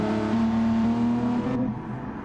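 Race car engines droning steadily in Gran Turismo Sport, a Dodge Viper among the cars, with a sustained harmonic engine tone that holds then shifts lower as the sound softens near the end.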